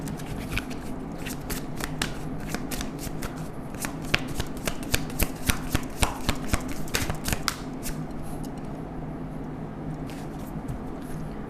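Tarot cards shuffled by hand to draw one more card make a run of crisp riffling snaps and flutters, busiest in the middle, then easing to a few soft taps near the end.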